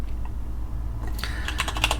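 Rapid keystrokes on a computer keyboard, entering a command to install a key and mirror list from a repository on ArcoLinux, begin after about a second of low hum, with a burst of close, crisp clicks; no talking.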